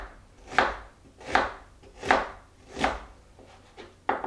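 A knife cutting food on a cutting board in a home cooking class, four evenly spaced, crisp chopping strokes followed by a few lighter taps, close and clear with no talking.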